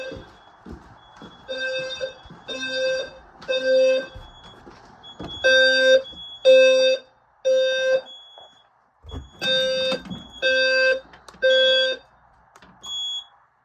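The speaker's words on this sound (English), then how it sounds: "pull another alarm and test why." A fire alarm sounding in repeated loud, tonal beeps in groups of three, with short pauses between groups and faint clatter underneath, during a no-power system test.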